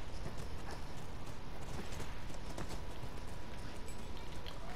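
Horses galloping in The Last of Us Remastered, a steady rapid clatter of hooves running continuously, fairly close but soft in level, with no talking over it.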